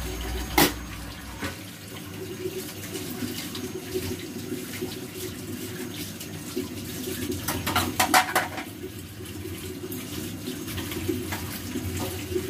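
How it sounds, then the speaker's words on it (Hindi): Water is poured into a simmering pot of egg and potato curry in a home kitchen in Pakistan, a steady splashing flow with brief clinks of pots and utensils, close and fairly loud, with no talking. "पानी और डाल दूँ"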